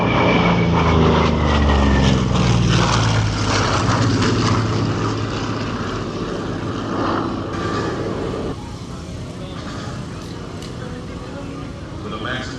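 Propeller engines of an A-26 Invader drone steadily in flight, loud and close at first and slowly easing lower, with someone narrating over the engine noise.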